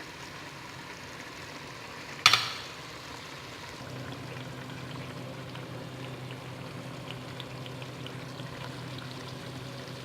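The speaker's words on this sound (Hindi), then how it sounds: "अभी हम थोड़ा सा इसमें कड़ी पत्ता डालेंगे।" Curry leaves drop into hot oil with mustard paste, giving one sharp crackling burst followed by a faint, steady sizzle that carries on quietly.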